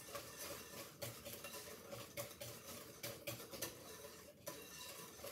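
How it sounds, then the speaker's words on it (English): Blueberry pie bar batter is whisked in a bowl, faint rhythmic scraping and clinking strokes repeating roughly once a second, with no voices. "We're going to whisk this."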